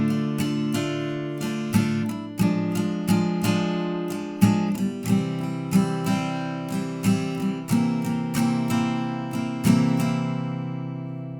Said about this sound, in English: so the first line of chords will sound like this